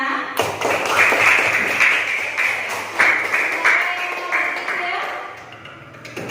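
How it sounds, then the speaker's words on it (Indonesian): Classroom audience of students clapping for a classmate, a short burst of scattered hand claps with sharp individual taps, uneven and moderately loud, tapering off over several seconds. "Tepuk tangannya mana?"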